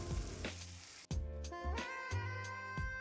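Tomatoes and green chillies frying in a pan of browned onions, a steady close sizzle with a sharp burst as they hit the oil, followed by crackling and occasional stirring scrapes.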